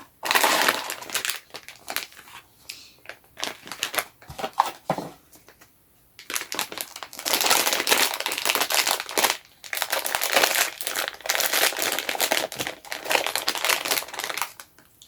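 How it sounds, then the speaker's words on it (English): Cardboard blind box packaging is torn and ripped open by hand in loud, close bursts of crinkling, crushing and tearing, with a short quiet stretch partway through and no talking. "I am awful at opening these blind boxes because they're always so stuck together."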